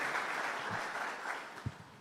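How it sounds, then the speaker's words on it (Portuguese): A church congregation applauds during a worship service, a dense continuous wash of many hands clapping at moderate distance, with a few louder nearby claps toward the end. "Vamos aplaudir o Senhor Amém."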